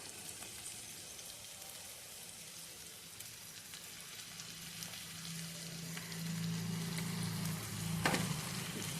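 Prawn biryani masala simmering in a pan with chilli powder, a soft continuous sizzle and bubbling that grows slightly louder toward the end, with one brief clink.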